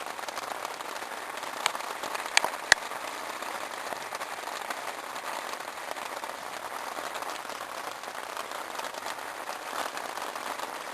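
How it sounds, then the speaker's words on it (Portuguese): Steady patter of rain on a tent in the Atlantic Forest fills the whole stretch, with a few sharper drops or taps standing out near the start. "tá chovendo, tá aguentando bem a barraca"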